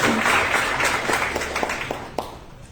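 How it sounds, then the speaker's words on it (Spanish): An audience at an oratory contest celebrating Espíndola's 55 years of cantonization applauds for a speaker, a dense wash of clapping that thins out over a few seconds into scattered individual claps. "Le brindamos el fuerte aplauso a la Magister Anaí Castillo Cordero"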